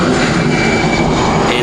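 Loud, steady roar of an EasyJet jet aircraft engine at Manchester Airport, near and sustained throughout with no pauses.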